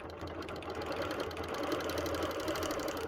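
Sewing machine running steadily during free motion quilting, a continuous even mechanical whir of rapid stitching heard up close and alone with no pauses.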